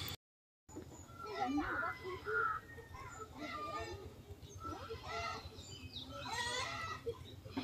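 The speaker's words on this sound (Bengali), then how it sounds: "কিছু হাঁস দেখতে পেলাম, এগুলো হচ্ছে চীনার হাঁস।" Muscovy ducks give hoarse, honking calls in bursts at an island village spot, mixed with voices talking nearby.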